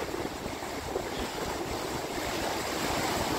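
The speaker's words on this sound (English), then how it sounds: "I'm at the Hinckley Reservation spillway" Water rushes over the Hinckley Reservation spillway outdoors on a windy day, making a constant, dense roar with wind buffeting the microphone throughout.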